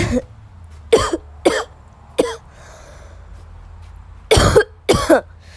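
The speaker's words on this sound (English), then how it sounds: "sorry guys, I have a cough" A person coughs repeatedly and sharply up close, in bursts of two separated by short pauses.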